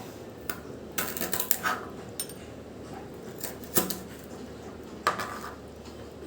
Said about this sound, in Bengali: তো ডাঁটাগুলো কেটে নিব।